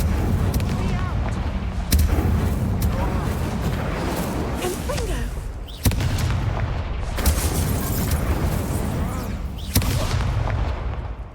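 An Incendio fire spell cast again and again during a wizard duel in Hogwarts Legacy, heard as loud booming bursts every few seconds with roaring whooshes between them and talk over the top.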